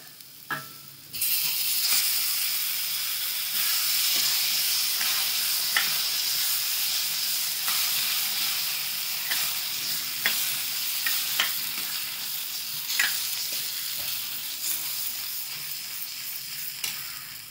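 Spinach sautéed in a pan for a Marathi palak bhaji gives a continuous close sizzle and hiss, broken by the periodic scrape and knock of a spoon stirring the leaves.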